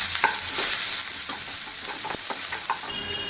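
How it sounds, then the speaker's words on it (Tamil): Onions with garlic and chana dal sautéing in a pan, a steady close sizzle with a spoon scraping and stirring in repeated short strokes, no voices. "இப்போ வெங்காயம் போட்டு நல்லா வதக்கிக்கலாம்."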